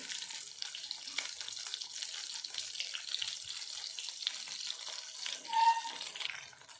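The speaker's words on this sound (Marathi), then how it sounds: "हा मसाला आपण तो तेल सुटेपर्यंत याचा कलर चेंज होईपर्यंत आपण इथे याला फ्राय करणार आहोत" Masala frying in oil in a pan for a drumstick (shevga) curry gives off a steady, soft hiss, with a brief louder flare near the end and no talking.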